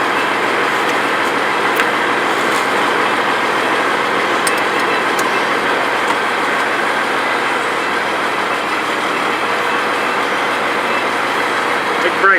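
A vehicle with a drivetrain problem drives along steadily, giving a continuous rumbling road and engine noise that stays loud throughout, with faint talk beneath.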